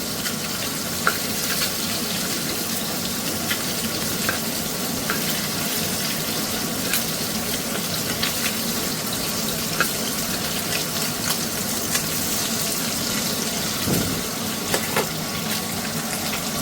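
Fish pieces coated in mustard paste fry in a pan, giving a steady, dense sizzle and crackle that continues evenly throughout with occasional small pops and a brief clatter near the end.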